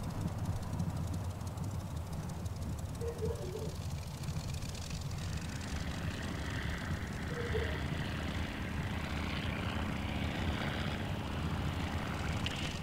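A Polikarpov Po-2 biplane's propeller engine in a flight simulator, a steady droning hum held for the whole stretch, with a faint voice briefly heard under it.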